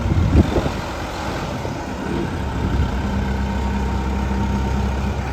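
A heavy diesel engine of a JCB 214S backhoe, freshly rebuilt, idles steadily nearby, a low rumbling drone with a brief louder knock at the start and no talking.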